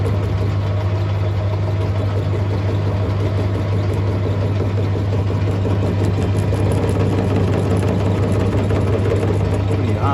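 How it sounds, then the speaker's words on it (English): A homemade motorcycle roll starter runs steadily, its starter motor giving a loud, constant mechanical drone with a strong low hum that does not let up from start to finish. "run this bloody starter motor"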